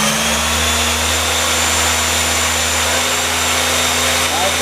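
A Haas ST-10Y CNC turning center's lathe spindle spins up toward 5,000 RPM, giving a loud, steady mechanical whine with a low hum that rises slightly early on and then holds constant.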